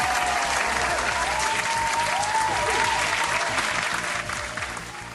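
Audience applause breaks out during an anime parody show, a dense steady wash of clapping from a crowd that stays strong before tapering off near the end, with no talking over it.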